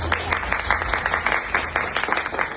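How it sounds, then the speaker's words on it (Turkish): An audience at a poetry evening claps for a book launch, a brief burst of many hands with individual claps standing out, steady and close throughout. "bu kitap için özel bir alkış rica ediyorum"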